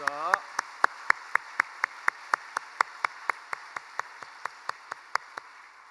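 A church congregation claps during an early-morning prayer service, in slow, even unison beats about four per second. The sound is moderately quiet, with a brief voice at the start.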